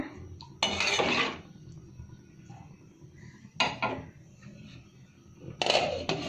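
Metal clatters on a cooking pot of bottle gourd with dried shrimp as a lid is handled and set on it: three sharp clanks spaced a few seconds apart, close, with quiet kitchen background between them.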